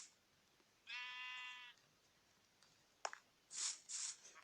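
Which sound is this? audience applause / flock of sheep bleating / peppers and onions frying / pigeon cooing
flock of sheep bleating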